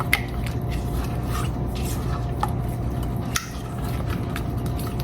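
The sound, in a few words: mixing eggs into brownie batter in a bowl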